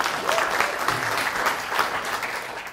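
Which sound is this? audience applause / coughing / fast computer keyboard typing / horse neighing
audience applause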